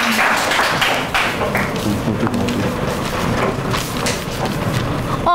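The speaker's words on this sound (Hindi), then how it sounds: "इसके लिए हम एक ताली बजा दें जोर की" A student audience at a university freedom-fortnight programme claps loudly and continuously in honour of a patriotic song, a thick, sustained roar of many hands with occasional heavier thumps and no break.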